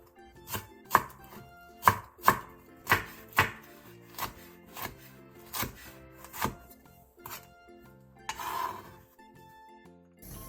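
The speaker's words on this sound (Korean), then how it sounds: "양파 2분의 1개를 채 썰고 대파 3분의 1개, 청양고추 2개, 홍고추 1개를 어슷썰게 해주세요." A knife chopping onion, green onion and chili peppers on a cutting board, a steady series of about a dozen sharp close thunks with a brief scraping sound near the end.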